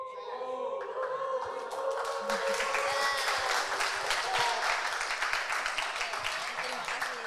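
An Indonesian preaching-contest audience claps and cheers for contestant Kak Reva, broad applause building under a host's sustained voice that fades out, then a steady wash of clapping and shouts continuing to the end.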